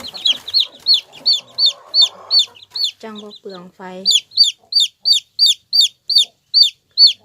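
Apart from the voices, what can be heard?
chickens clucking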